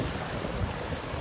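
Sea waves wash onto a beach in a steady, broad rushing roar, heavily mixed with wind buffeting the microphone, with no voices.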